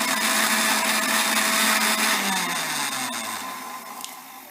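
A blender whirs loudly as it mixes milk, sugar and Rooh Afza into a milkshake, then slowly winds down as the motor spins to a stop near the end.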